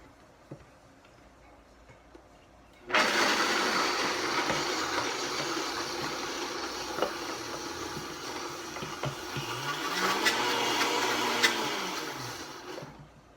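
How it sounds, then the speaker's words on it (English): A kitchen blender grinds soaked walnuts for a vegan lasagna, switching on abruptly with a loud, steady whirring roar that runs continuously, its pitch wavering slightly as the nuts break down. "we're just going to go ahead and throw those into the blender"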